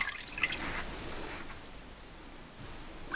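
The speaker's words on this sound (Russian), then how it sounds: "Вот так выливаем бульончик." Broth trickles and splashes into a strainer while making kholodets (Russian meat jelly), a soft, dripping pour that fades down before picking up again near the end.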